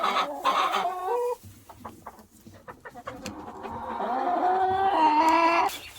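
Chickens clucking and squawking close by, a string of rising, drawn-out calls with brief quieter gaps between them.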